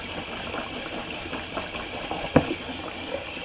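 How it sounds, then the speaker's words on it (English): A synthetic 26 mm shaving brush with a blood knot is rinsed under water, giving a steady, faint watery hiss with one brief splash partway through. "I just rinse out my brush real quick"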